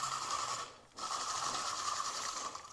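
An onion is fed flat side down through a kitchen slicing machine fitted with a number 2 cone, giving a steady grinding whir that briefly drops away before resuming, close and unbroken.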